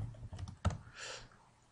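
A short run of computer keyboard typing while entering a name in web software, soft quick keystrokes with one sharper tap in the middle, quiet and close with no talking.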